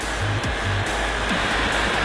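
A Lamborghini Huracan roars steadily under hard acceleration on a race track in Las Vegas, a loud sustained engine and wind rush filling the whole stretch with no one talking.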